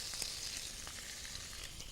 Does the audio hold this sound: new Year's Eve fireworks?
no